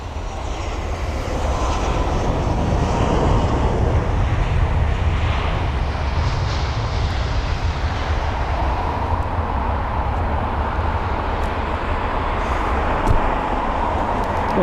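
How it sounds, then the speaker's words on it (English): A British Airways Boeing 777 jet at London Heathrow airport, heading for runway 27 left, gives off a loud, sustained engine roar that swells in the first seconds and then holds as a steady broadband rumble throughout. "there's the 777 of British Airways. That is heading to runway 27 left"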